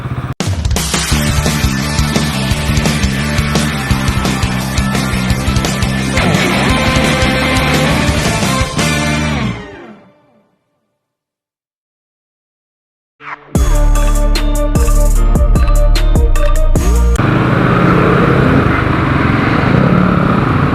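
A Motorstar Cafe 400 400cc motorcycle engine with a stock muffler runs loud and close, goes briefly silent, then returns with strong low rumbling and a steady drone.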